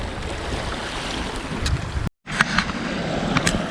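Wild, rough ocean water churning at Botanical Beach in Canada, a steady broadband roar of surf and wind with a brief dropout partway through, no voices.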